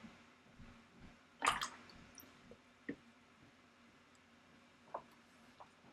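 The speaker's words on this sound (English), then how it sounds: "And wash the brush." A watercolor brush is swished and rinsed in a small container of water, giving a faint splash followed by a few soft, scattered drips and taps in a quiet room.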